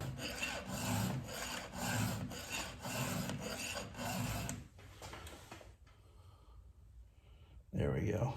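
A square file rasps across saw teeth in a run of about six even, close strokes, then goes quiet. A final stroke follows after the pause.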